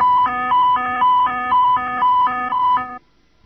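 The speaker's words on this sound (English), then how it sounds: "The overspeed warning consists of activation of the warning siren" A Boeing 747-400 overspeed warning siren sounds loud and electronic, alternating rapidly between two tones in a repeating pattern for about three seconds, then cuts off abruptly.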